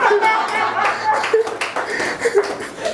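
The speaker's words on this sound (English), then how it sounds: "Let's give a round of applause for the summary." At a book launch in London, a small audience claps in a short, uneven patter mixed with light chuckles and some voices.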